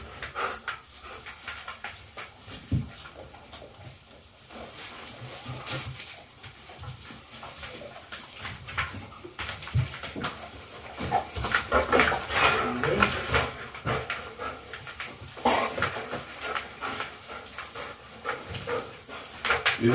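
A hyper female dog pants and whimpers intermittently during a breeding session, near and fairly loud, with uneven bursts of breathing and whining over a noisy background.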